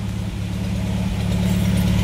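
A classic car's engine idles smoothly and steadily in a low, even rumble, close by and continuous, with no talking.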